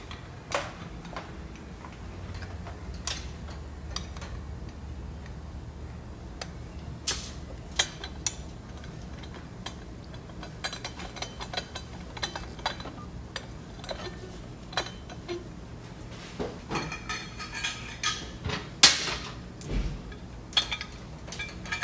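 Bolts on GSXR exhaust headers are threaded in finger tight during a 4-into-1 exhaust install, producing scattered small metallic ticks and clicks, close and irregular, with a few sharper taps near the end.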